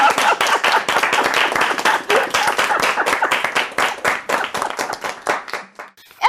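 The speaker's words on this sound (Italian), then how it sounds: "Possiamo fare un applauso?" An audience at a Church gathering claps and applauds loudly and steadily for several seconds. The applause thins out near the end.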